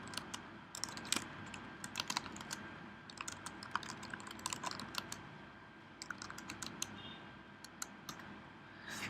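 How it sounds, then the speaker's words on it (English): Quick, irregular clicking of typing on a computer keyboard, close and fairly quiet, running continuously with short pauses between bursts. "and let's type something."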